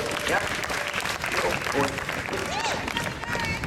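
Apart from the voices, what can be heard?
audience clapping for a volunteer at a street show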